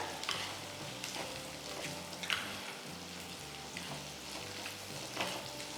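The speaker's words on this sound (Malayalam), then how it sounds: "ഇതിട്ടിട്ട് നന്നായിട്ട് വഴറ്റുക" Sliced mango sautéing in a pan for a Kerala-style sour mango curry, giving a steady, soft sizzle with faint stirring scrapes throughout and no talk.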